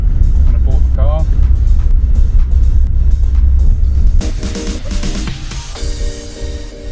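A classic eBay Porsche rumbles along on its first drive in 15 years, its low engine drone steady and loud inside the cabin, with rattles from the steering column and a voice talking over it.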